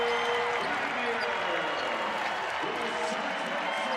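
A basketball arena crowd, Arkansas State against Texas State, roars steadily after a breakaway dunk, a loud sustained cheer with a commentator talking over it.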